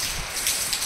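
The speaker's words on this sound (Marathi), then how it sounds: "हे बघा कसा पाऊस चालू आहे." Steady rain falling over a farm field in a village, a dense even hiss close by with no clear individual drops.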